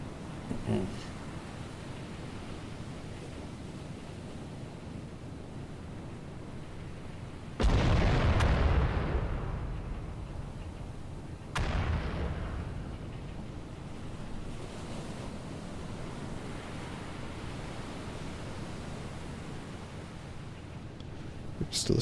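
Naval guns fire in the Battleship Command game: two heavy booming blasts about four seconds apart, the first louder, over a steady wash of sea and wind noise.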